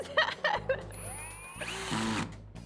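Power drill on a home renovation job, motor whirring up in pitch then running steadily and winding down, with clicking tool handling before it.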